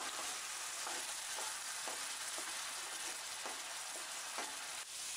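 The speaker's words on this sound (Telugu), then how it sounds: "పేస్ట్ చేసుకున్న ఉల్లిపాయ ముద్దను వేసుకుని 2-3 నిమిషాల పాటు వేయించుకోవాలి" Onion paste frying in oil in a pan for a pomfret fish curry, a quiet steady sizzle with faint periodic stirring scrapes, heard alone without talk.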